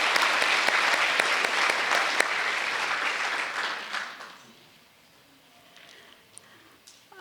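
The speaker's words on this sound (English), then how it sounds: "get a big round of applause for O'Meara Brothers Brewing" Audience at a community awards dinner bursts into loud, sustained clapping that runs for about four seconds, then tapers off into quieter room noise with a few scattered late claps.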